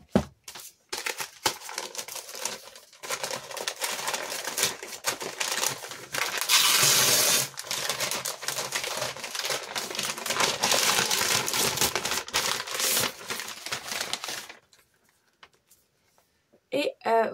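Gift-wrapped comic books being unwrapped, paper crinkling, tearing and crushing in dense bursts for about fourteen seconds, loud and close, before dropping to near silence with a brief rustle at the end.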